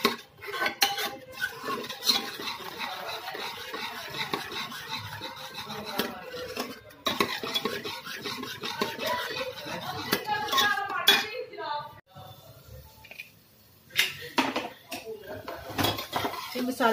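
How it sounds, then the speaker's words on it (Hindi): Masala spices (red chili, turmeric and coriander powder) being stirred and roasted in a pan, with steady scraping and clinking of a metal spoon against the pan, fairly close and continuous, with faint speech at times. "इसको अच्छी तरह से मिक्स कर लेंगे।"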